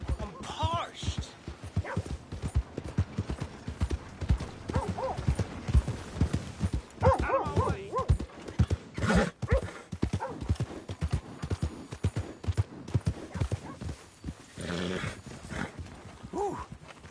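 Horse hooves clip-clop in Red Dead Redemption 2 in a steady walking rhythm, close and fairly loud, with occasional snorts and someone talking over them.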